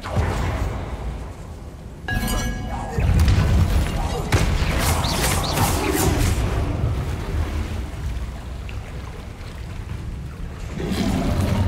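A Bombarda spell explosion in Hogwarts Legacy: heavy booming bursts hit several times, followed by a rumbling, crackling wash of debris, with a voice speaking in places.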